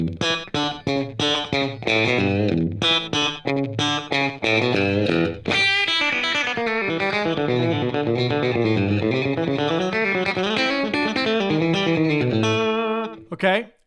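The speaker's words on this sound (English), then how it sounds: "it's a real quick slap back" Electric guitar in a country style tone through a quick slapback delay, with busy picked lines and sustained bends, loud and close with no talking.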